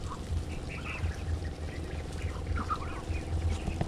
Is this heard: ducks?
yes